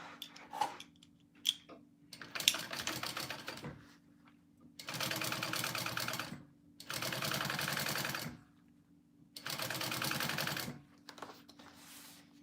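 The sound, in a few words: sewing machine stitching a mini backpack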